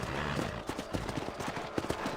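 Horses trot in the Red Dead Redemption video game, their hooves clip-clopping close and steadily over a thick background wash, with no voices.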